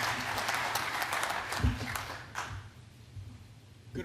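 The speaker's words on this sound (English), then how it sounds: "Let's give him a big hand of applause." An audience applauds the main sponsor at a potato industry congress, steady dense clapping that fills the room and eases off slightly near the end.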